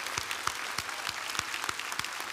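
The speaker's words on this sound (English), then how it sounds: "let's give yourselves a well-deserved round of applause" Steady applause from a university commencement crowd, dense hand claps with no voices, holding at an even level throughout.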